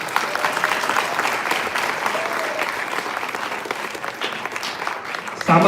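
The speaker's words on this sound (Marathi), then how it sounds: "मला वाटते आणखी जोरात निश्चितपणे टाळ्या झाल्या पाहिजे." An audience applauds at a journalists' association award ceremony in Dapoli, a dense, steady wash of clapping that carries on for several seconds and swells louder right at the end.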